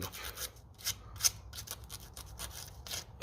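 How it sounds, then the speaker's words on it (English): Sandpaper scratched briskly across solder-covered wire connectors on a 1957 Ferguson 35 TVO tractor, a run of quick, close, rasping strokes at an uneven rhythm with no talking. "so that I can go give them a scratch of sandpaper"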